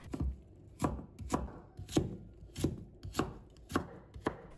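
A knife chops a piece of white radish into thin shreds on a board: seven crisp, evenly spaced strokes, close and clear, with quiet gaps between them and no talk.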